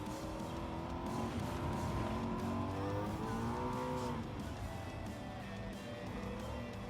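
Race car in the Gran Turismo 7 video game braking hard, a loud continuous engine drone with shifting pitch and a faint tire squeal, steady throughout.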